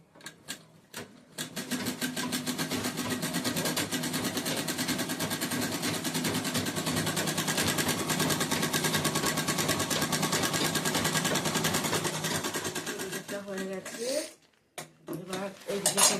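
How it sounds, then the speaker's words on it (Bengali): A sewing machine stitches a bag in a fast, steady mechanical run lasting over ten seconds, close and clear, framed by brief clicks and handling sounds before and after. "ফোল্ড করে দুই দিকের মাথাটা সেলাই করে নেব"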